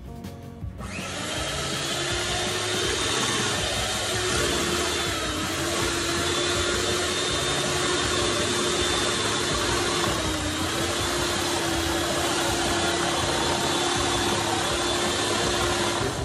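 An electric mixer whips dessert cream, starting at a slow speed and gradually rising to medium, with a loud, steady motor whir that runs continuously and close up without a break.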